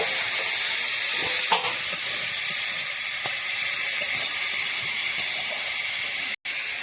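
Food fries slowly over low heat in a pan, giving a steady, close sizzling hiss with a few faint pops and clicks and no voices.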